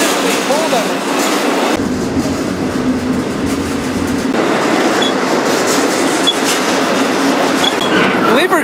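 A freight train rolls into a rail yard in Florida, heard from aboard a car as a loud, steady, close rumble and rattle of wheels and wagons with faint squeals, lasting the whole stretch.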